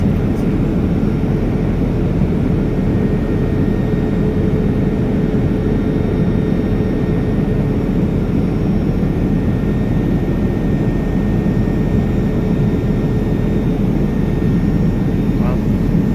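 Inside the cabin of an All Nippon Airways airliner flying from Heathrow to Haneda, a constant loud low engine and air roar with a faint steady hum, unchanging throughout.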